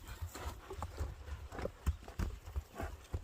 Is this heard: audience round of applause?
no